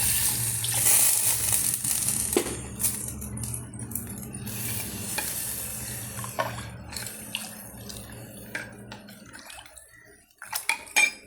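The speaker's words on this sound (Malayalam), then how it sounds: "കുറച്ച് പുളിവെള്ളം ഒഴിച്ചു" Tamarind water poured into a pot while cooking a traditional Kerala rasam, with clinking of metal pots and utensils and a steady wet splash in the kitchen, close and fairly loud, without talk.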